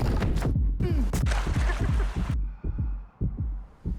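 A heartbeat thumps in a steady, fairly quick rhythm of loud, low double beats, partly masked midway by a burst of broadband noise.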